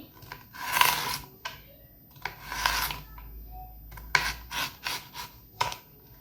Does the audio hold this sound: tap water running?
no